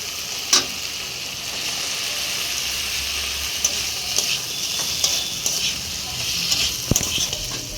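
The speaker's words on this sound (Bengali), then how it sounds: "আলু মশলার সাথে কষানো হয়ে গেছে" Fried potatoes being stirred into an oily spice masala with slit green chillies, a steady close sizzle broken by scraping stirs and a few sharp utensil clicks.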